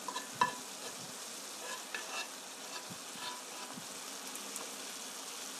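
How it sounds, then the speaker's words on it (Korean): Onions and fried black bean paste (chunjang) stir-fry in a pan with a fairly quiet, even sizzle and occasional light scrapes and knocks of the stirring utensil. "여기에 아까 볶아놓은 춘장"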